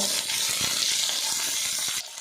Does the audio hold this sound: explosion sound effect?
no